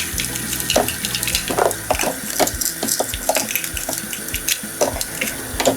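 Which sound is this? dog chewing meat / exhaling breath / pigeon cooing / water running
water running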